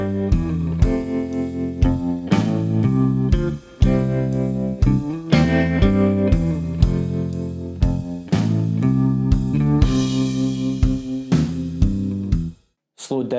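Electric guitar rhythm part in a triad style, a major barre chord sliding into an inversion triad, played as a steady run of bright strummed chord hits with brief pauses and a short gap near the end.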